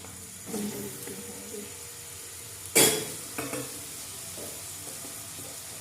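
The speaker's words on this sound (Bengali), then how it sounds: "আলু ভাজা হচ্ছে" Potatoes frying in a home kitchen pan while a shahi paneer dish is being made, a soft sizzle broken by a few stirring scrapes and one sharp clatter, with faint background sounds.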